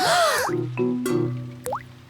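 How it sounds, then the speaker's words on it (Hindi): Rainwater drips into a bucket in a cartoon, landing as a few loud, ringing plops and plinks with a sliding tone, with no talk over them. "डैडी पिग बूंदें इकट्ठा करने के लिए बाल्टी का इस्तेमाल कर रहे हैं।"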